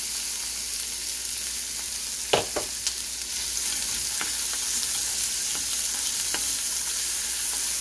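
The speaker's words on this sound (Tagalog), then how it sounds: "Dito naman sa pan na to, ipa-fry natin yung ating onion at saka garlic." Onion and garlic fry in a pan with a loud, steady, close sizzle and a few sharp clinks of a utensil scattered through it.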